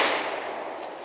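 A single sharp, loud shot from a Polish Radom Wz.33 Tokarev pistol cracks right at the start, then fades in a short, broad echoing tail.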